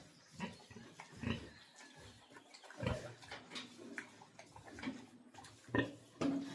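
A pig on a farm is ridden by a person, giving repeated short grunts and squeals in close irregular bursts over several seconds, with scuffling and movement noise between them.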